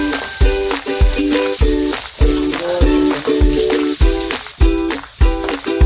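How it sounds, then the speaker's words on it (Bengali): Chopped onion drops into hot oil already holding bay leaf, whole garam masala and cumin, for a duck curry, then is stirred: a steady loud sizzle with rhythmic scraping stir strokes about twice a second. "এবার দিয়ে দিচ্ছি পেঁয়াজ কুচি"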